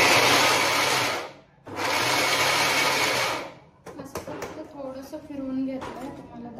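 Mixer grinder whirring loudly in two short bursts while pulsing soaked sabudana for sabudana vada, with a brief pause between, followed by kitchen clatter and someone talking.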